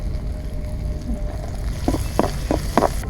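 Chilies, garlic and onion sizzle in hot oil for a tempering, a steady close frying hiss broken by a few sharp crackles and pops toward the end.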